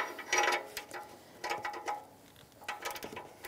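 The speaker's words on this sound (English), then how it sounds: "Now I'm going to take my socket, reverse it." Socket ratchet snugging down an upstream oxygen sensor with a crush washer on a 2013–2018 Toyota RAV4 2.5L four-cylinder, giving a few short, fairly quiet bursts of clicking with brief pauses between strokes.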